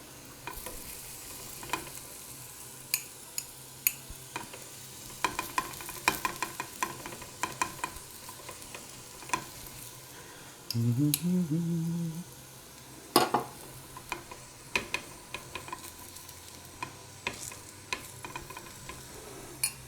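Stuffed cauliflower paratha fries quietly in oil in a pan, a soft steady sizzle broken by scattered clicks and scrapes of a utensil and one brief louder hum.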